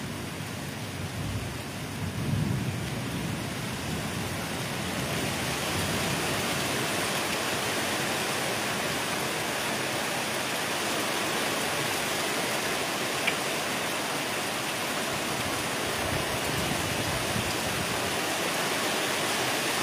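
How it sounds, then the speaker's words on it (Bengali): Heavy rain pours steadily in the Sundarbans as the wind picks up, a dense even roar of water with a brief low gust early on and no voices. "এই যে যত বৃষ্টি হচ্ছে তার পাশাপাশি হাওয়া বাড়ছে।"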